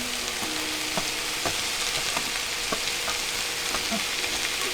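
Swiss chard sizzling steadily as it sautés in a pan, a continuous close frying hiss broken by occasional soft clicks and scrapes of stirring, with no one talking.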